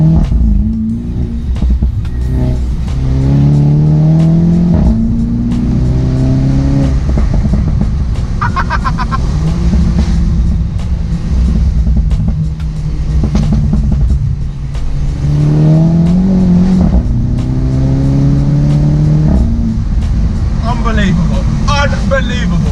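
A Mini Cooper S Convertible fitted with a Remus catback exhaust revs repeatedly, its engine note rising and falling in loud sweeps with pops between them. People talk over it from inside the car.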